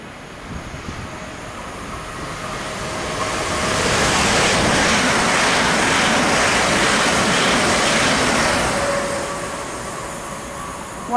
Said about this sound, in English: about to pass by on the fast lines will be a Heathrow Express Class 387